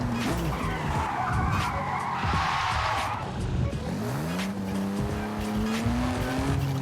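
In a video game, a BMW i8 upgraded to 614 horsepower drifts with loud, sustained tire squeal, the engine note rising and falling beneath the screech as the car slides.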